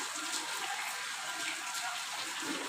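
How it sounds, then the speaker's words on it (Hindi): Steady broadband hiss of falling rain or pouring water, continuous and even with no distinct drops standing out, moderately loud and heard alone without voices. "पानी गिरत है"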